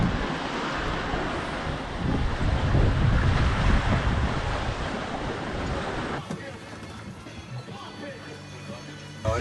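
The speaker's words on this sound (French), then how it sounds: "il y a des vagues de derrière et des vagues qui croisent sur le côté" Waves from behind and crossing from the side rush and slosh against a sailing boat's hull amid heavy wind noise on an ocean passage from the Canaries to Cape Verde, a loud churning wash that suddenly drops to a quieter hiss.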